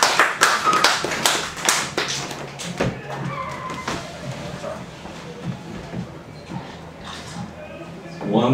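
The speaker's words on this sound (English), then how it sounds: "let's have a round of applause for Tom DeGidio" Clapping from an open mic audience at a Halloween show, a dense burst of applause that peaks at the start and slowly thins out, then swells again briefly near the end.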